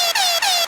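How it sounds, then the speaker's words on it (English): A high, squeaky horn blast repeated three times in quick succession, each burst sped up and shrill, loud and close. "That's the air horn, but it's like pitched up like 3 times."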